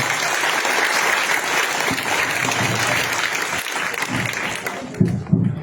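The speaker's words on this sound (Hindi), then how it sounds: "तालियां बजा रहे हैं।" Audience applause fills most of the clip, dense and steady clapping from a crowd at a school or community event, tapering near the end as a few louder claps and stray sounds break through.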